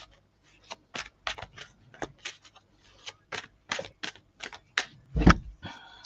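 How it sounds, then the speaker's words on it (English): Tarot cards being shuffled by hand, a quiet series of crisp riffling bursts and soft taps at an uneven rhythm, close to the listener, with one heavier thump near the end. "You see me shuffling. I'm definitely shuffling."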